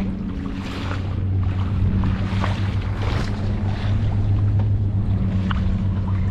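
Sea water churning and splashing around a boat off the Maldives, a steady broadband wash with wind buffeting the microphone and a low motor drone underneath, continuous and fairly loud throughout.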